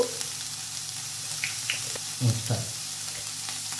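Vegetables frying under a lid in a covered pan, a steady soft sizzle with a couple of brief stirring clatters near the middle; no one talks.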